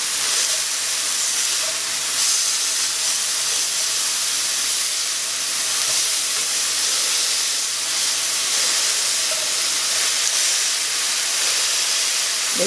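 Sausage patties sizzle in a frying pan, giving a steady, loud, hissing fry that runs unbroken from start to finish, with faint pops now and then.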